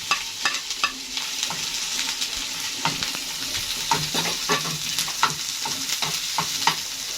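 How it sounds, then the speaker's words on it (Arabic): Chopped peppers and garlic fry in a pan, a steady sizzle broken by frequent scraping stirs at a regular pace, close and fairly loud with no talking. "قطعنا الفلفل اهو مع الثوم، هنحمر كده برضو نديله تشويحه"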